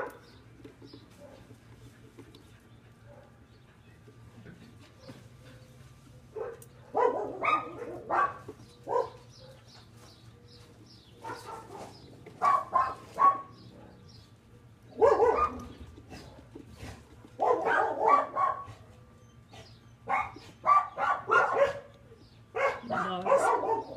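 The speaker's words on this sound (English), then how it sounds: "Dogs." Dogs bark in several loud bursts from mid-range distance, with yips and whimpers between them, set against a steady low hum in a garage where a 2004 Mustang GT is being worked on.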